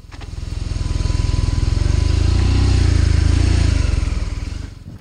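A BMW R nineT Scrambler motorcycle engine runs close by with a deep, even, throbbing beat that swells louder toward the middle and then eases off.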